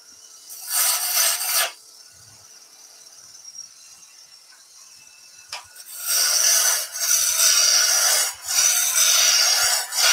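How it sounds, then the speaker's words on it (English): A woodturning gouge roughs waste off a spinning workpiece on a lathe in close, loud rasping bursts, one short early run, then sustained scraping broken by brief pauses. "let's just rough and gouge down a bulk of that waste before we go back to the skew to clean up."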